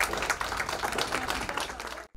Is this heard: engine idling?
no